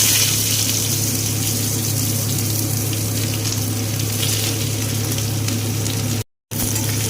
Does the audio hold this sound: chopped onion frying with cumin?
yes